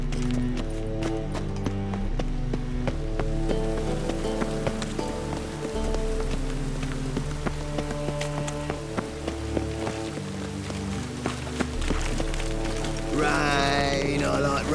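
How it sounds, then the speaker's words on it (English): Steady rain patters through a Witcher 3 scene, a soft continuous hiss mixed with clopping horse hooves and sustained musical tones throughout. "Rain, I like rain."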